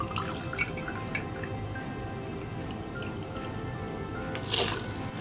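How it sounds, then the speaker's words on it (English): Two ounces of Tito's vodka poured into a blender cup for a holiday cocktail, a thin, continuous trickle and splash lasting several seconds, close up, with a brief brighter splash near the end. "I'm going to pour it right into the blender cup"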